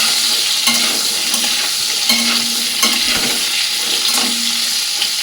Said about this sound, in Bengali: এগুলোকে এবার নুন ছাড়া ভালো করে কিন্তু আমি ভেজে নেব